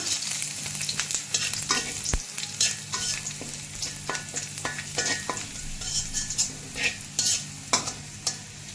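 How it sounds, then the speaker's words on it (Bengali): Chopped garlic frying in oil left over from frying fish, with a steady background sizzle and repeated scraping knocks of a spatula stirring the pan, close and without talk. "একটু সময় নিয়ে আস্তে আস্তে লাল লাল করে ভেজে নিব রসুনটাকে।"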